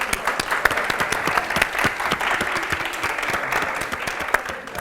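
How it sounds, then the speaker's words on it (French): Sustained applause from an audience welcoming the members of a jury, dense clapping continuing steadily for several seconds. "S'il vous plaît, on applaudit pour les membres du jury."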